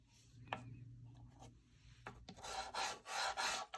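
Flat edge of a light blue soft pastel rubbed across drawing paper with light pressure, a soft close scratchy friction swelling into steady strokes toward the end.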